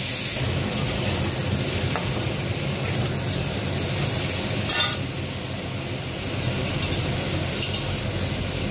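Salted vegetables and prawns sizzle steadily in a frying pan while being stirred, with a continuous close crackle and occasional scraping and clinking of the spoon against the pan.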